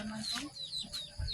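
Chickens clucking at a family house on Sibuyan, with short bird calls close by and murmured talk and household noise around them.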